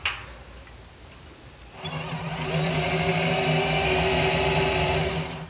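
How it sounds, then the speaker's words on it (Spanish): Power drill boring into the steel shaft of a washing machine's tub agitator, a steady high whine with harsh metallic grinding that starts after a quiet moment and holds loud to the end. "Ahora le vamos a meter un poquito más lo que es el taladro."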